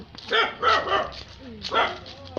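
A small dog gives a few short yips and barks close by, mixed with people's voices.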